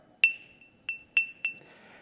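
A cup, not a wine glass, is struck four times, each tap giving a clear, bright ringing ping that decays quickly. The strikes come at uneven intervals, close and fairly loud in a quiet room.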